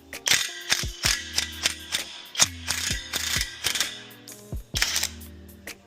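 A hand ratchet clicks in quick, loud bursts while loosening the upper ball joint nut on a 1997 Jeep Wrangler, each run of pawl clicks followed by short pauses as the handle swings back.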